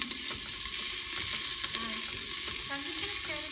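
Vegetables sizzle steadily in a pan over a small gas burner while being stirred, a continuous close hiss with scraping and occasional light clatter, no talking.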